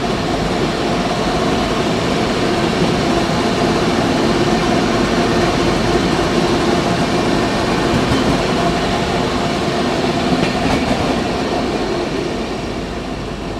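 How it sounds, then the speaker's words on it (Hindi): A high-capacity parcel-van freight train runs alongside on a parallel track, a loud, continuous rumble and roar of wheels with faint clatter throughout, heard close from a neighbouring train, easing slightly at the very end. "बगल में हाई कैपेसिटी पार्सल वैन वाली फ्रेट ट्रेन आ गई है"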